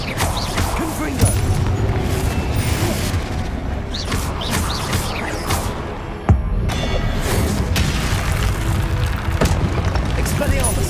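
Spell explosions from Confringo in the video game Hogwarts Legacy, with a sharp loud boom near the middle of a dense, continuous battle soundscape of blasts and rumbling effects.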